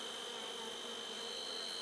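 Honeybees drone in a dense, steady buzz during an inspection of a recently requeened hive, a continuous close hum with a distinct high whine and no voices.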